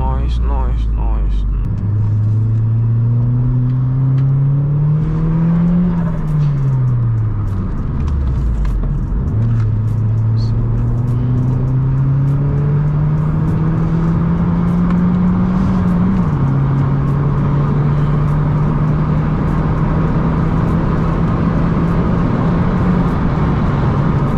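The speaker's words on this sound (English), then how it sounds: "Even when the windows are up, yeah, you lot could literally hear the engine as well." A stock Vauxhall Astra VXR engine drones loudly from inside the cabin while driving, its pitch climbing through the gears with drops at each shift, over steady road rumble.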